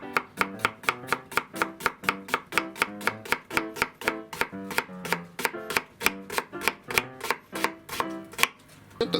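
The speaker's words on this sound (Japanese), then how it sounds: "ちょっと薄めに玉ねぎはスライスしてください" A knife slices a new-season onion thinly on a cutting board for a minced meat, tomato and canned mackerel curry, giving a fast, steady run of crisp close chops, about three or four per second, with no talking.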